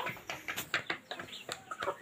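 A red Brahma chicken clucks in short, repeated bursts close by, the calls coming in a quick uneven rhythm with faint background noise.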